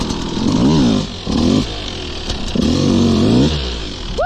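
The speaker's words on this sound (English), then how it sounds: "and then we'll take the KTM for a spin." A KTM 150 two-stroke dirt bike revs hard nearby in repeated bursts, its buzzing engine rising and falling with a brief drop between pulls as it is ridden, loud and close with no talking.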